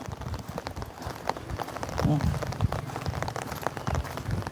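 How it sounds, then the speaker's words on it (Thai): Steady rain falls outside a house, a continuous dense patter close by, with a voice talking over it. "โอ้ยฝนก็ฝนอะไรรอ มาดูฝนเลยเอ้ยเนาะ"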